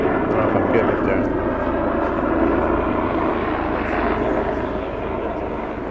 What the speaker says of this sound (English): Now, I'm thinking about this black helicopter making noise.